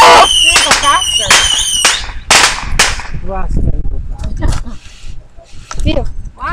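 Daytime fireworks go off in rapid bursts of sharp, loud cracks and pops, close by, while people shout and exclaim over them.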